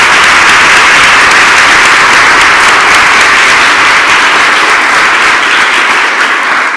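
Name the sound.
audience applause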